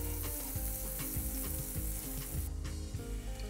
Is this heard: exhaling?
no